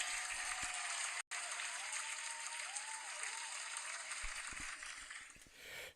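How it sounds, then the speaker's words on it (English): A live wrestling talk-show audience gives a round of applause for Paul: a dense, steady wash of clapping that cuts out for a split second, then carries on and eases off near the end. "Let's get a fucking round of applause for Paul."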